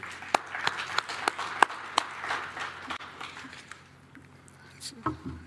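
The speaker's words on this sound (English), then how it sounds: "Would you help me giving them a round of applause?" A conference audience gives a brief round of applause for the hosts, sparse and moderately distant at first, then tapering into quiet before voices return.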